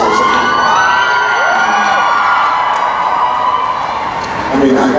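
A convention crowd at a Supernatural fan event in New Jersey screams and cheers loudly and continuously, with high shrieks and whoops layered over the roar.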